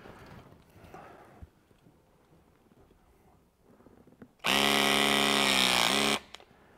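A battery-powered crimping tool fitting a connector inside a transformer whirs loudly for under two seconds in one steady motor burst, preceded by quiet handling and clicks.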